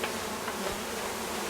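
Bees buzz around an open top bar hive, a dense steady drone from many insects close by, continuous and even, with no voices.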